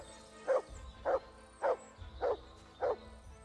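Dog Mutz barking in the medieval game Kingdom Come Deliverance II: five evenly spaced, moderately loud woofs at a steady rhythm, roughly one every half second, over a quiet ambient background.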